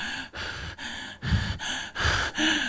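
A voice imitates gasping, labored breathing, as if short of air at high altitude in Baguio: six rhythmic, loud, close breaths in quick succession, alone without talk.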